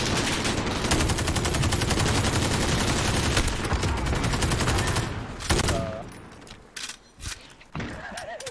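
An M91 light machine gun fires in a video game gunfight, a long sustained burst of rapid automatic shots that stops after about five seconds, followed by a few quieter scattered sounds.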